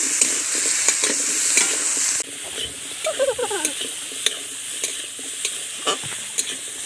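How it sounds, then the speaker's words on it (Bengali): Ginger garlic paste fries in a hot pan, sizzling steadily while a spoon stirs it with repeated scraping strokes, the hiss loud at first and then settling a little quieter. "বেটে রাখা আদা রসুন দিয়ে দিচ্ছি ভালো করে নাড়বো যাতে আদা রসুন কাঁচা গন্ধটা কেটে যায়"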